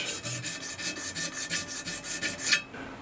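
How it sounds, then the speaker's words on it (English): An oil stone rubbed back and forth over a drilled hole in a Boxford lathe part, giving about a dozen quick, regular rasping strokes close by, ending abruptly, with no talking. "I'm just rubbing an oil stone along over the hole just to make sure there are no sharp edges."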